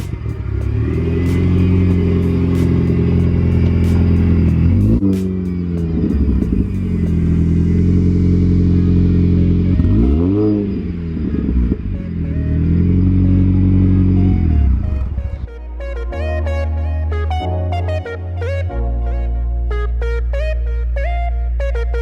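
A MINI Cooper S R53 with a newly fitted exhaust revs up close, its engine note climbing and falling through several throttle blips over a steady idle, ending with a lower rumbling idle and some clatter.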